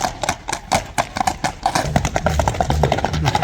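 Hooves of a large 1.75 m horse clip-clop in a quick, steady rhythm, close and crisp, growing denser as it moves along.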